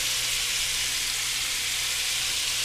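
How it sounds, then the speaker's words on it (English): Steady, dense sizzling of short ribs searing in a hot pan, loud and close, continuous throughout with no voices. "That's a good sizzle."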